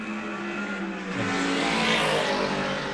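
A red Aston Martin DB4 GT racing at Goodwood, its engine note rising as it sweeps past, a loud continuous roar with tonal whine building toward the end.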